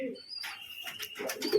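A pigeon coos in short, close, throaty bursts, with a faint voice speaking underneath.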